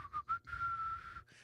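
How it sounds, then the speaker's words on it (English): A person whistles a short advertising jingle: two quick chirps, then a longer held tone and a brief final note, clear and close with nothing else behind it. "the whistle. It just gets in your head, doesn't it?"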